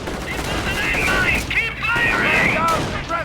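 Gunfire and combat noise in the Company of Heroes strategy game, a dense run of shots and bursts under a steady battle din that keeps going with no spoken voices.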